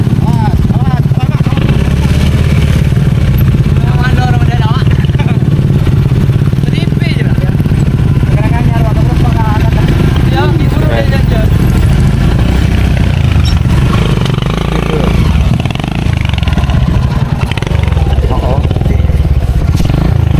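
Automatic scooter motorcycle taxi engine idling and revving on a mountain hiking trail in Indonesia, running steadily near and loud throughout under people talking nearby.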